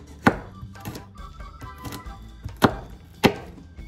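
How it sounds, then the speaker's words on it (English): Several sharp knife chops strike a cutting board while cutting porgy fish ingredients into little pieces, irregularly spaced with a few softer taps between them, close and fairly quiet. "So I'm just chopping into little pieces"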